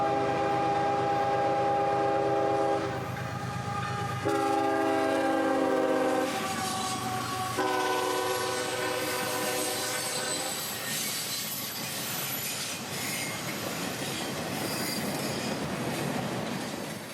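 A southbound freight train on the S Line at Bushnell, Florida, sounds its horn in long, loud blasts as it barrels past, followed by a steady rumble of rolling cars and high wheel squeal.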